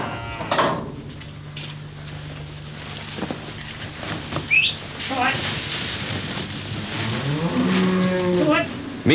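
Cattle lowing on a Welsh dairy and potato farm near St Davids in 1978, a few drawn-out moos rising and falling at moderate distance over a steady low drone and faint background noise.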